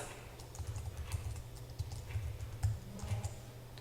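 Fingers type on a computer keyboard, entering text into a Word document: soft, rapid, uneven key clicks close by and fairly quiet, alone over a low steady hum.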